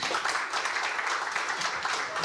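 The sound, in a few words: audience applause for the speakers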